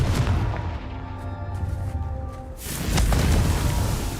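A Confringo fire spell bursts in the game Hogwarts Legacy, giving a deep booming blast that fades before a second loud eruption swells up, with no talking.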